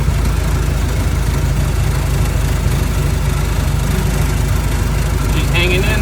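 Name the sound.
Model T Ford engine pulling uphill under throttle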